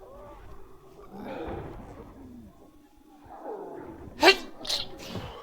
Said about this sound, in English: I am so sorry, anybody who actually catches this, my sniffling and sneezing.